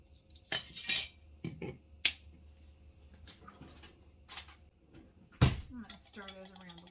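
Wax and sweet almond oil stirred in a small container for solid perfume, giving sharp clinks and scrapes in scattered bursts, close and fairly loud.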